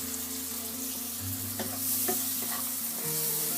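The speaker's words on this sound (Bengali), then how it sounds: "আরেকটা চুলায় যে আমার পেঁয়াজটা ভাজা হচ্ছে" Chopped onion sizzles steadily in a hot pan on the stove for a bhindi masala, with repeated scraping and clinking of a spoon stirring through it, close and continuous with no talking.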